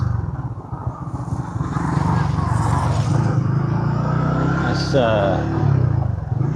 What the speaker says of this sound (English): Here we go, first couple of motorbikes.